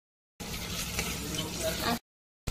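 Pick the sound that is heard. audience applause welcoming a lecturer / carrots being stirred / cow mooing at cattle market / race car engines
carrots being stirred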